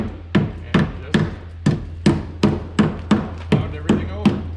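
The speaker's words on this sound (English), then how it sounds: "Then we just basically take a hammer. A rubber mallet usually works a little better." A rubber mallet pounds Jeep Cherokee XJ fender metal in ten evenly spaced, sharp thuds, each with a short ringing decay, over a low steady hum.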